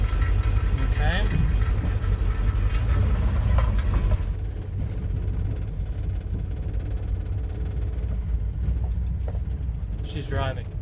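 A 1987 Dodge Ramcharger engine runs steadily during a drive, a low continuous rumble throughout, with faint voices now and then.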